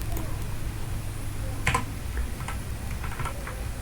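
Computer keyboard keystrokes while pressing Ctrl D in a spreadsheet, a few light clicks and taps over a low steady hum, close but soft.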